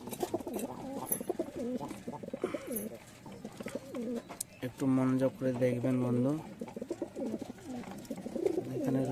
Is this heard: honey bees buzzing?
no